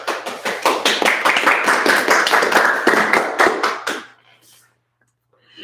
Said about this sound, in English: let's quickly give a big round of applause to the HCU students who have had birthdays in the month of April